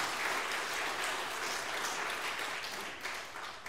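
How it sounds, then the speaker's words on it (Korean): A church congregation applauds together, a dense, even wash of clapping that holds steady and then starts to thin near the end, heard at moderate distance. "박수 한번 해주세요."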